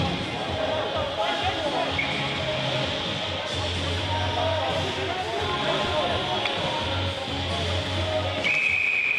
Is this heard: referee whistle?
yes